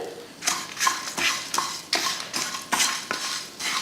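Grated coconut being sautéed, repeated scraping and stirring in a pan, a steady rhythm of spatula strokes roughly every half second with a soft sizzle underneath, close up.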